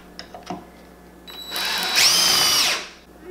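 A power drill whines up and bites in to countersink holes during a granite bar installation, a loud close burst of about a second and a half that spins down after a few faint knocks.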